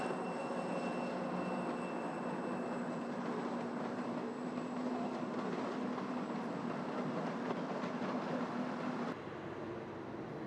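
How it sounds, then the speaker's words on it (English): An eastbound unit coal train rolls past at Tehachapi, a steady, continuous rumble and rail noise holding at the same level for about nine seconds before dropping off abruptly near the end. "Unit coal trains like this eastbound were unthinkable"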